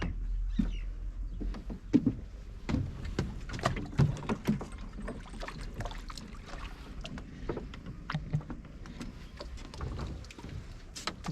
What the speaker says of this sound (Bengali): এটা মাছ ধরা নৌকা।